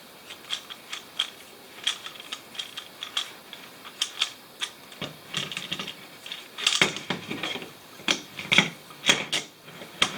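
Screws being loosened on a Bixpy Jet housing, a steady series of sharp close clicks and ratcheting ticks in quick irregular rhythm, no talking.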